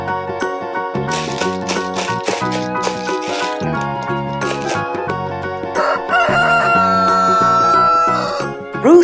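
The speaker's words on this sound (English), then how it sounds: "Rooster, gallo." Over upbeat background music, a rooster lets out a long crow in the second half, loud and close.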